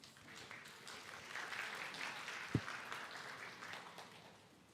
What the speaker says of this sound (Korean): 김정훈 전무를 큰 박수로 맞이해 주시기 바랍니다.